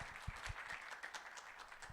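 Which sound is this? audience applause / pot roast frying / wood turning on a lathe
audience applause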